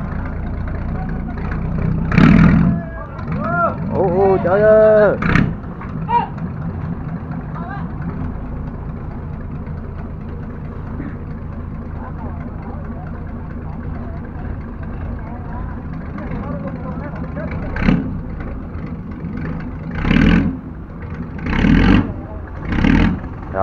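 A river boat's engine with small, fast-spinning propellers drones steadily at full throttle against a strong current, surging in several revving bursts, while people talk over it.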